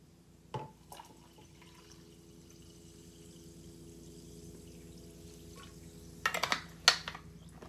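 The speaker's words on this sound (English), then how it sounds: "So I'm filling up my water glass." Water is poured to fill a drinking glass, with a brief splash early on and then a louder run of pouring and trickling near the end, close by in an otherwise quiet room.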